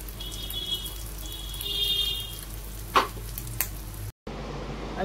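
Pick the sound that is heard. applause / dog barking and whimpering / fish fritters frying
fish fritters frying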